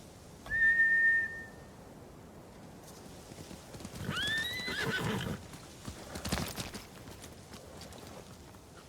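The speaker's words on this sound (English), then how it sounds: "Bastards scared off the horses." Samurai war horses in a video game whinny shrilly and clatter off at a gallop, with a high whistle at the start and a second drawn-out neigh, hoofbeats rattling in between, clear and close.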